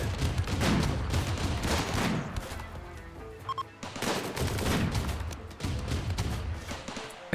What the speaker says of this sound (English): And this autocannon.